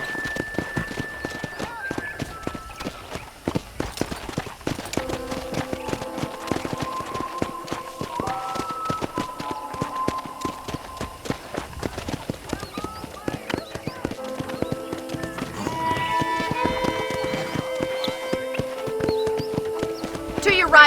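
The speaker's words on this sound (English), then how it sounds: "let's see if you can still ride a horse" Horse hooves clip-clop in a steady rhythm while a horse is ridden in the video game Red Dead Redemption. Game music plays and speech runs over the hoofbeats throughout.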